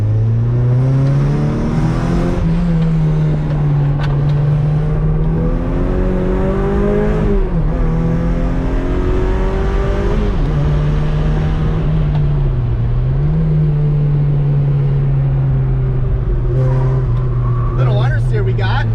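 A car engine is driven hard on the move, with a loud, close drone that holds steady and then rises and dips through shifts, gear changes and brief lifts, while road and wind noise continue underneath.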